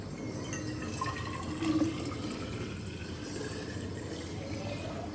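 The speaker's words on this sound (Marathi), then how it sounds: "आता तो मी बाटलीमध्ये भरून घेते" Hot water pours steadily into a bottle, a soft continuous trickle with a brief louder gurgle partway through, quiet and close.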